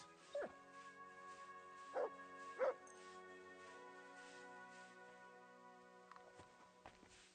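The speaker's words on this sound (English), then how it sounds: "It's my dog." A dog in the video game Kingdom Come: Deliverance 2 gives a few soft barks and yips over a steady game ambience, heard fairly quietly.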